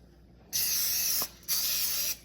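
Cooking spray from an aerosol can misted onto a baking pan for PB&J breakfast bars, two close hissing bursts of about half to two-thirds of a second each with a short gap between them.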